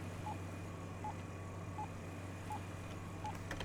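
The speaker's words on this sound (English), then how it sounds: "Definitely beeping faster again." Faint electronic beeps from the Stormworks video game repeat at a regular pace, about five short tones, over a low steady engine hum.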